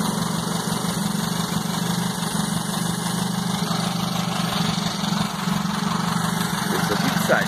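A car engine idles steadily during an engine decarbonizing treatment, a constant loud low rumble with a thin mechanical whine, unchanging throughout with no talk.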